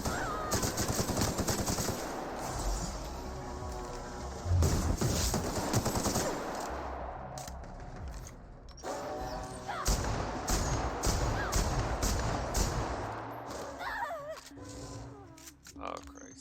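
Heavy video game gunfire, bursts of rapid automatic shots and single bangs, rattles close and loud through most of the stretch, with a voice talking over it in places.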